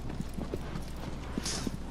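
Horse hooves clip-clop at a steady galloping rhythm in Shadow of the Colossus, a string of evenly spaced thuds over faint background ambience, with a brief bright swish near the end.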